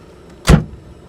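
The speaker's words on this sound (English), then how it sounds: "So let's close the door." A single solid door thud from a Mercedes 300 SL classic car, close and loud, with a short dull resonance fading into quiet.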